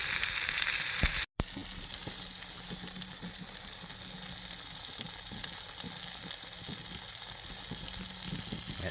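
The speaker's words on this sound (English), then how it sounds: "That sizzle sounds good" Tomatoes, black pudding and sausages sizzle in a Trangia camping stove pan outdoors. The frying crackles and spits steadily at close range, with a brief sharp knock near the start and no talking.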